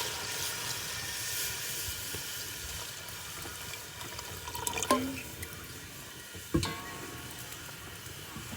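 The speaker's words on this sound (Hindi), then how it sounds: "तो अब इसमें हम लगाएंगे शोरबा बनाने के लिए पानी" Water is poured into a pan of browned village-style desi curry, a quiet sizzle and splash rising briefly, then a couple of soft clatters as it keeps cooking gently; no talking.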